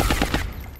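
Suppressing gunfire in XCOM Long War bursts out as a rapid volley of loud, close shots, four or so quick cracks that stop short and trail off into a fading tail.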